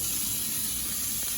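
Tap water runs steadily over leaves being rinsed for Hawaiian oxtail laulau, a continuous close hiss with no pauses and no voices.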